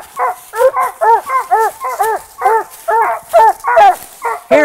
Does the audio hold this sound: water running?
no